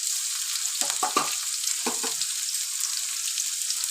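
Shallots and curry leaves saute in a pan, a steady high sizzle throughout with a few brief spoon-stirring scrapes near the start and middle, close and continuous.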